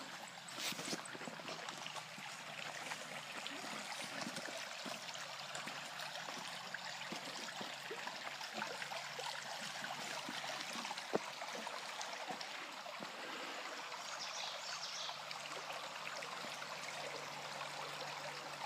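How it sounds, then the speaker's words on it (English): Water flows in a stream near a cycle park area, a continuous soft trickling and babbling with occasional splashes, faint but steady throughout with no voices. "the water is flowing good"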